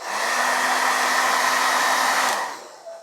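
A hair dryer blows hot air to dry freshly brushed brown paint on a Warhammer Warcry miniature, a loud, steady close-up whoosh with a motor whine that cuts off near the end.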